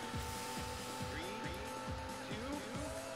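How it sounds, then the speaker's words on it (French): Race car in Daytona USA on the Sega Saturn during a rolling start: a loud, steady engine drone with repeated rising-and-falling revs every half second, continuous throughout. "Donc bien sûr, toujours ce lancement de la voiture."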